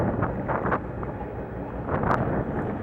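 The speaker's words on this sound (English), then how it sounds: "Wind is still blowing pretty good." Strong wind gusts buffet the microphone at a gas stop during a motorcycle ride through Big Bend country, making a loud, continuous rumble with brief surges.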